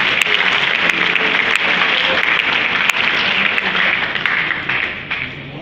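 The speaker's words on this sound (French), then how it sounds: "Aidez-moi à acclamer pour cela." Funeral congregation applauding together, a dense sustained wash of clapping from many hands in a church service, steady and loud before tapering slightly near the end.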